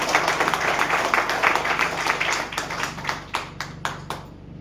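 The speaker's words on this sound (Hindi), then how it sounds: "मैं चाहूंगा उस परमपिता परमेश्वर के लिए एक बार जोरदार तालियां" Crowd applause at a business plan presentation, a dense wash of many hands clapping that thins out toward the end into scattered individual claps.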